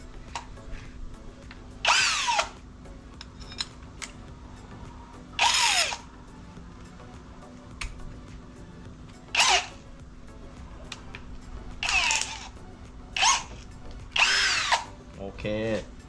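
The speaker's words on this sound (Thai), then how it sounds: "ส่วนดอกตัวนี้ที่ผมจะใช้นี่ขนาด18มิลเดี๋ยวเราจะมาเจาะตัวไม้20มิล" An Imax IMCD 20BL cordless drill fitted with an 18 mm bit bores into 20 mm wood in about seven loud, whining bursts of a few seconds each, with quiet pauses between them.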